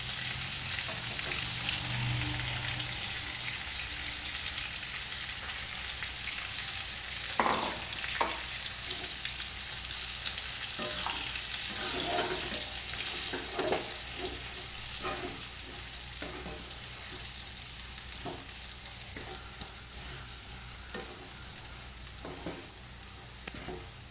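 Bitter gourd fries in a pan as chili powder is added, a continuous loud sizzle with scattered stirring scrapes and light clinks throughout, no talk.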